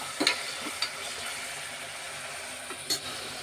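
Onions frying with a little salt in a pressure cooker for a mutton tomato gravy curry, giving a faint steady sizzle with a few brief stirring scrapes near the start and end.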